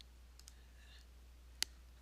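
A single crisp mouse click saving work in spreadsheet software, sharp and close, with faint clicks earlier over a low steady hum and no talking.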